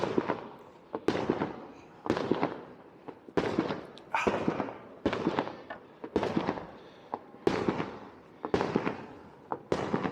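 Repeated booming fireworks bursts, roughly one every second, each a sharp crack followed by a crackling decay, loud and fairly close.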